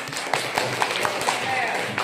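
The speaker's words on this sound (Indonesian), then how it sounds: "Nah, tepuk tangan untuk Anwar." Classroom applause for a student named Anwar: brisk scattered clapping from a group of pupils, a short crisp run of overlapping claps at moderate level in a reverberant room.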